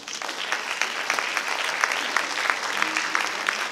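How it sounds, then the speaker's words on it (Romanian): Steady applause from an audience at a gala folk-arts show in Zalău, welcoming a singer from the Porolisul ensemble; dense, sustained clapping with sharper individual claps standing out, moderately loud throughout. "vă rog să-l primiți cu aplauze pe Claudiu Costinaș"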